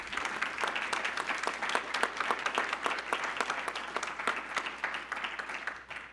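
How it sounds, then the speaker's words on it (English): A room of people gives a round of applause for the competitors at a biohealth communications competition. The clapping is sustained and evenly dense, with sharp individual claps standing out, and it fades slightly at the very end. "One more round of applause for all of the competitors."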